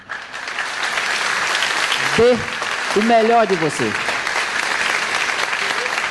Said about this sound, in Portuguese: Podem bater palmas que ninguém liga.